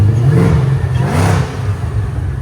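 Supercharged 770 hp Ford Mustang GT with a 5.0L V8 and Valvetronic exhaust revving loudly and steadily, a deep rumbling burble that swells and dips without a break, close by with no talk.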